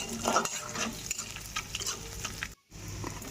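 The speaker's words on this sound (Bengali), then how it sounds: "ডিম আর আলু দুটোই ভাজা হয়ে গেছে এবার ওই তেলের মধ্যে দিয়ে দেব গোটা গরম মশলা" Whole garam masala spices (cinnamon, cloves, cardamom) dropped into hot oil left from frying eggs and potatoes, giving a steady close sizzle with stirring scrapes and a brief break near the end, no talking.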